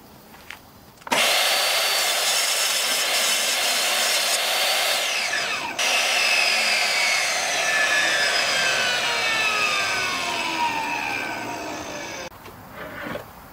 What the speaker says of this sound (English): I'm gonna go ahead and rip this 3/4 oak plywood down the sides